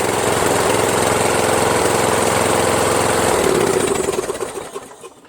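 A Toro Wheel Horse 1238XL riding mower's Briggs 12 HP flathead engine runs steadily and loud for several seconds, then winds down and fades out near the end.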